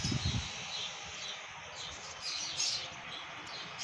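Pet pigeons and lovebirds kept together give off quick high chirps and tweets, fairly faint and scattered over a steady background hiss, with a few low thumps early on.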